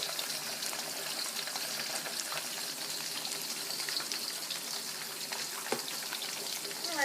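Sweet and sour pork sizzles and fries in a pan, a steady, close crackle of bubbling oil and moisture with occasional sharper pops, carrying on unbroken and without any talking.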